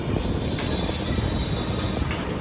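A train rumbles steadily close by, arriving at Nagpur railway station, with rolling wheel noise and a faint high squeal running throughout.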